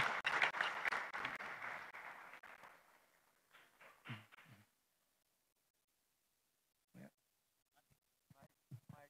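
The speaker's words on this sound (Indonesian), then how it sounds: "Sambut tepuk tangan dong." Audience applause at a DPD RI debate forum, a burst of clapping that fades out within a few seconds, followed by quiet with brief voices and microphone handling.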